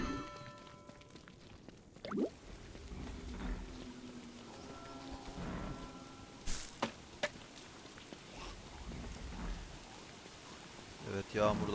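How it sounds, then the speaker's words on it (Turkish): Steady rain falls in the Don't Starve Together game world, a faint, soft, continuous hiss with scattered light patters and occasional louder clicks, under a quiet voice. "Sonbaharda çok sık yağmur yağmaz ama yağmur da ıslaklık veriyor."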